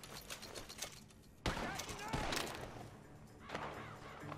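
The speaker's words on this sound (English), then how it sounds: "The gunshots are coming from that barn!" Gunfire from a barn in the Western game Red Dead Redemption 2: a dense burst of shots erupts after a short quiet stretch and carries on, moderately loud, with a voice talking over it.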